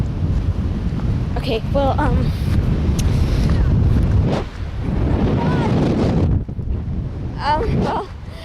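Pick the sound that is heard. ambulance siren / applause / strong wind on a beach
strong wind on a beach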